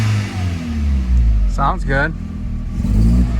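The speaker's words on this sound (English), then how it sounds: "You can hear that blow-off valve." A Mk4 Jetta's 1.8T turbo engine, fitted with a blow-off valve and recently revived after sitting for three years, revs up and settles in a loud nearby rumble while someone briefly speaks over it.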